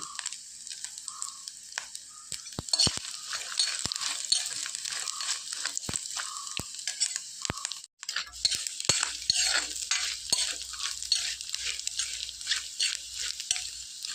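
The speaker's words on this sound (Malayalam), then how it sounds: "ഇത് ഇടയ്ക്കിടയ്ക്കൊന്ന് നമ്മൾ ഇളക്കി കൊടുത്തുകൊണ്ടിരിക്കണം." Dried mature coconut pieces frying in a pan over medium flame, stirred repeatedly, giving a steady sizzle with scraping stir strokes and light clinks of a utensil against the pan throughout.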